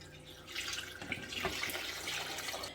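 Two glasses of water pour steadily into a blender jar with a splashing, trickling rush for a few seconds, no voices.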